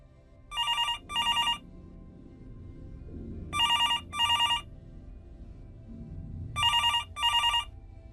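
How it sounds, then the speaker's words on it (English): A telephone in a hospital room rings in three double bursts, loud and clear, with a low murmur of background sound filling the gaps. "So while I'm alone in the hospital, my room phone begins ringing."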